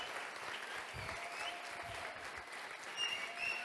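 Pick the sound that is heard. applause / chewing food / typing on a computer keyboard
applause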